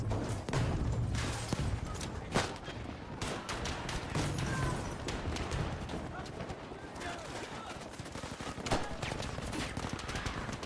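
Battlefield 5 match with dense, continuous gunfire and scattered explosions, bursts of rapid shots layered over rumbling booms throughout, with players talking over the action.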